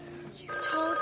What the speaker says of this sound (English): Telephone. Well, just let it ring.